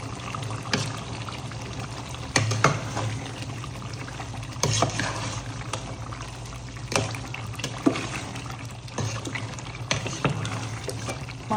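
Meat curry with fried onions gets stirred in a pot, wet squelching scrapes and clinks coming in irregular bursts over a low steady hum, no one talking.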